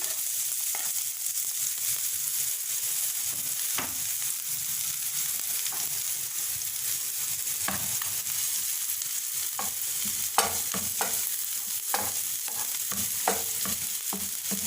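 Finely chopped onion sautés in a pan for an Afghani omelette, giving a constant close sizzle broken by the scrape and clack of a spatula stirring every second or so, and nobody speaks.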